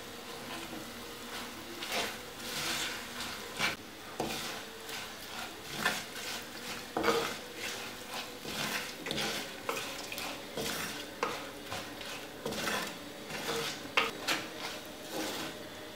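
A spoon scrapes and knocks against a bowl as asafoetida powder, fenugreek powder and salt are mixed for a Kerala fish pickle, making close, rhythmic clatters and scrapes with short pauses between strokes and no voices.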